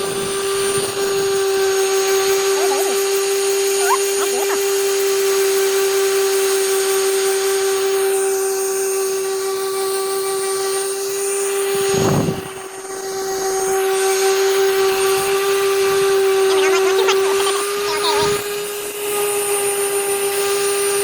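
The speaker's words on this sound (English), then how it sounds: "get after it with the sander and see what she looks like" A power sander works over a car body in a V8-swapped Datsun project, giving a steady, loud whining drone with a strong sustained tone that continues nearly unbroken for about twenty seconds, dipping briefly once midway.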